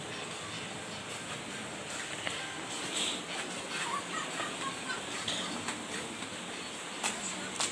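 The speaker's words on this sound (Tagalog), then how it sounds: "pakantay ti Pato" A flock of ducks quacking in a dense, continuous chorus, with scattered louder calls rising above the noisy background.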